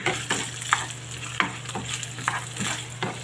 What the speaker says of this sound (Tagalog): Gigisa lang natin ang ating karne.